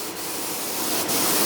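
Continuous close hiss of a Greco HVLP 9.5 sprayer laying down water-based paint in a small workshop, steady with slight surges.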